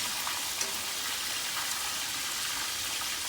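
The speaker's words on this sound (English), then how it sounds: "We got our wonton cookies cooking." Wontons fry in hot oil, giving a steady, dense sizzle and crackle that stays even throughout, close and moderately loud with no voices.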